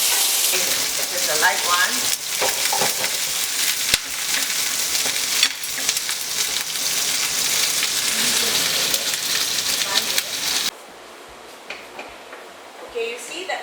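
Fish frying in hot oil in a pan gives a loud, steady crackling sizzle for about eleven seconds, then abruptly drops to a quiet simmer; a person talks briefly over the sizzle.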